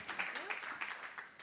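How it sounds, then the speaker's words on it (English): Audience applause for a speaker on the Arena Stage at a health and wellbeing summit in Valencia, heard as quiet, distant clapping in soft repeated bursts that blur into a short spread-out round. "Big round of applause for Patricia."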